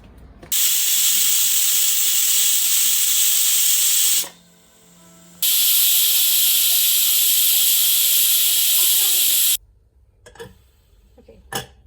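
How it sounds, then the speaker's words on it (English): Steam hisses loudly and steadily out of a pressure cooker on a kitchen stove, broken by a brief pause, then continuing before cutting off into quiet with faint clicks. "the steam is released"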